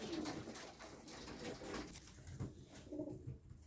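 Pigeons coo softly in repeated low throaty calls, faint and close, over a murky background hum.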